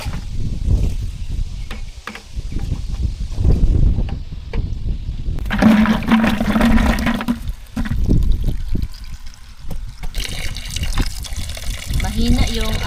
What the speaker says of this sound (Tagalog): Mahina yung agas ng tubig